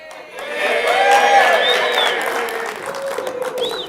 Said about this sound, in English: I bet I don't get that applause at the end